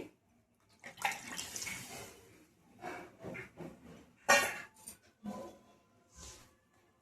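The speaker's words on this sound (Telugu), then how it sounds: "మనము తీసి పెట్టుకున్న చింతపండు గుజ్జు పోస్తున్నానండి" Thick tamarind pulp being poured into a fish curry of mud-dwelling murrel fish, with intermittent splashy pours and wet sloshing bursts, fairly close, with no talk over it.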